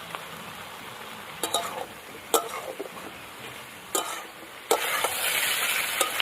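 Fried soya chunks being stirred and mixed in a pan for chili soya, a steady sizzle broken by several sharp scraping strokes of the spoon, louder toward the end, with no talking.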